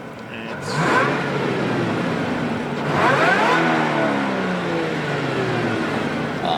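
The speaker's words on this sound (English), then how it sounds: "get some sounds, like of the supercharger whine, the exhaust" A supercharged Toyota Land Cruiser GRJ70 engine revs up twice, rising to a loud roar and falling back, with a steady supercharger whine running under the exhaust.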